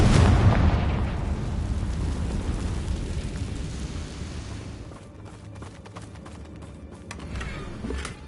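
A Confringo spell detonates in the video game Hogwarts Legacy, a loud booming blast at the start that rolls into a long rumbling decay, followed by scattered crackling pops and a softer swell near the end.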